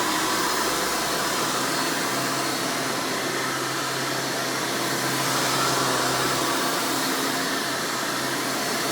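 A Hoover Spirit Elite U5067-930 upright vacuum cleaner runs continuously, producing a loud, screaming motor whine with a broad rushing airflow that holds steady throughout.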